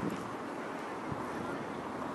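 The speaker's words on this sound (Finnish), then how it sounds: "Siis kato, täällähän tuulee." Steady outdoor wind buffeting the microphone beside a lake on a sea-breeze day, a constant broadband rush with no talking.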